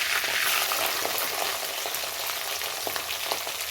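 Curry leaves, ginger and garlic sauté in hot oil, giving a steady, close crackling sizzle with no voices.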